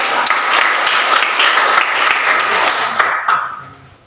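A class claps for a student named Agatha during an Indonesian school lesson, a dense burst of many hands that holds steady for about three seconds and then tapers off near the end.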